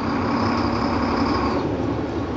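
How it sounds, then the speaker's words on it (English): A tractor-trailer truck's engine labors against the set parking brake as the clutch is eased out, a loud, steady, close drone with a rising tone that drops away partway through. "we'll ease off the clutch until the engine pulls against the parking brake"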